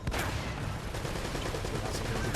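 Shotgun gunfire in the Uncharted: Drake's Fortune video game, a dense noisy stretch of repeated blasts and battle sounds, fairly faint and continuous, with voices mixed in.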